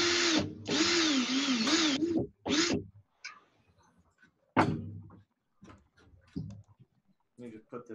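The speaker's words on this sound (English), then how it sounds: "Let me just put this guy in my drill and straighten it out here quick." Power drill spinning a coil of nitro wire to straighten it, two loud revving bursts of whine up front then a shorter spin, followed by clicks and handling noises with a voice talking between them.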